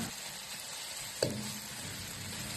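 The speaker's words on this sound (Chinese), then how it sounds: "再倒入腌好的牛肉翻炒" Marinated beef stir-fried in a wok gives a soft, even sizzle throughout, with a single sharp clank of the spoon against the wok partway through.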